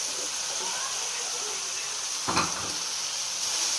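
Capsicum and onion hit a hot pan for chicken jalfrezi, making a continuous hissing sizzle with a brief louder burst midway.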